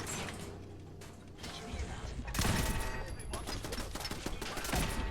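Automatic turret gunfire in the video game Fallout 4, a dense rapid stream of shots that swells sharply halfway through and keeps hammering loudly until the end.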